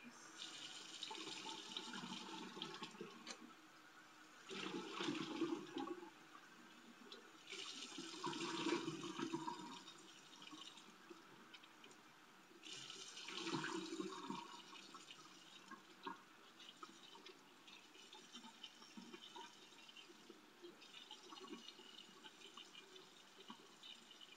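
Water running from a tap into a sink during face washing, a soft, faint trickle with louder splashy bursts every few seconds as hands dip and rinse, quiet and close.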